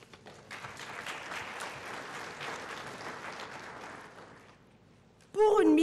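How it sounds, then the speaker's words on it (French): A conference audience applauds with a steady wash of clapping that fades out. A voice starts speaking loudly right after. "j'estime que c'est vraiment à applaudir"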